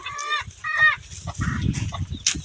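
Chickens cluck and call in short, overlapping bursts at close range, with a hen brooding eggs nearby and a low rustle running underneath.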